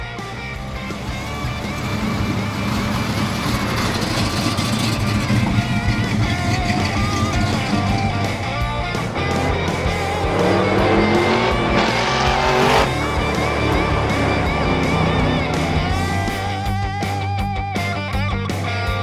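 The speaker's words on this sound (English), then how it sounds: "So you want to drive the Buick in the back?" A Buick drives past a dealership lot with a steady engine roar and tire noise, the sound rising and fading over about twenty seconds, with no talking.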